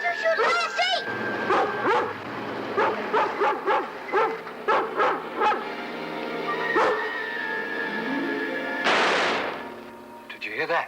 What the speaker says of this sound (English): How'd that blasted dog get here?